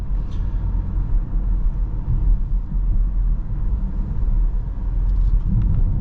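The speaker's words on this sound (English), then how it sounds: "The X5 definitely picks up faster than it did in the old one." Steady low engine rumble from a 2024 BMW X5 40i M Sport in sport mode as it picks up speed, a continuous close drone heard from inside the cabin with no talking.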